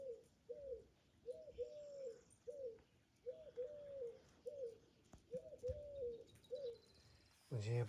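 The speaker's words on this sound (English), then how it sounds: "all you can hear is the birds" Pigeons or doves coo in a steady repeating rhythm, close and clear, with a faint bird chirp and a brief clatter at the end.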